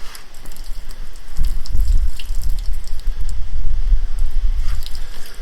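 Hot water is poured over a red Fiat 500 Pop to lift off its body stripes, a steady splashing gush that patters on the car's surface throughout.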